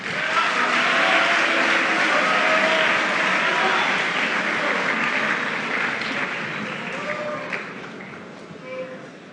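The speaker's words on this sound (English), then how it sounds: "Let's get a round of applause for all of them one more time" Sustained applause from a sizable crowd at a student council debate fills the space, loud at first and gradually tapering off, with some voices mixed into the clapping.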